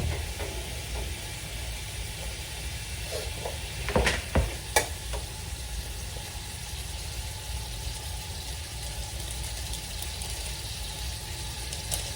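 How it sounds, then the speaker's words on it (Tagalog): Fresh squid frying in a pan, a steady sizzle with a few sharp scrapes and clacks of stirring utensils in the middle, no talking. "Tapos halo ng halo."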